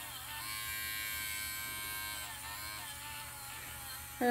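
An electric foot file removes calloused skin from the inside of a foot, giving a continuous, even, high-pitched buzzing whine up close. A brief louder scrape comes near the end.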